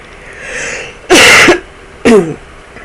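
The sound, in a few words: cough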